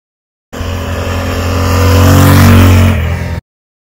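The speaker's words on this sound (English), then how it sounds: "I am riding a 2014 Ducati 988" A 2014 Ducati 899 Panigale motorcycle engine drones steadily while riding, swelling in loudness as it revs up through the middle and easing slightly before cutting off abruptly, heard close and alone without talk.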